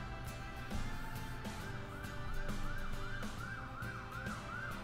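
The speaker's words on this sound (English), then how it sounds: "Some kind of sirens." Emergency vehicle sirens wail in a simulated zoo park game, a repeating rising and falling tone sounding steadily over a dense background hum, with no talking.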